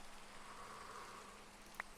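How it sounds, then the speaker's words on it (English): Rain falling in the Minecraft video game, a soft, steady hiss of drops that stays faint and even throughout, with one brief louder patter near the end. "The bees are inside because it is raining."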